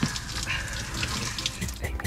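Shower water runs steadily inside a camper van, a continuous broadband hiss of spray with small splashing variations and no talk over it.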